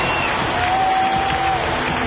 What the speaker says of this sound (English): Alex getting a standing ovation